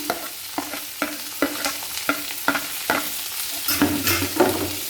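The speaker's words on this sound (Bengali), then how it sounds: "এর তেলের মধ্যে নাড়াচাড়া করে নেব পেঁয়াজগুলো লাল করে ভেজে নেব" Chopped onions with whole cumin and green chillies fry in oil for a paneer malai curry, a spatula scraping the pan in regular strokes about twice a second over a constant close sizzle, with no talking.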